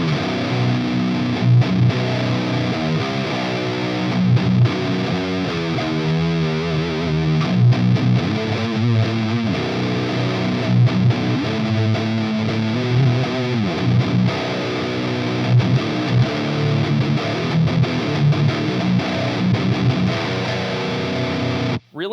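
A heavily distorted electric guitar through an Orange Rocker 15 Terror amp at its 7-watt half-power setting, playing thick, sludgy doom riffs with sustained chords and chugging notes, loud and continuous with no talking.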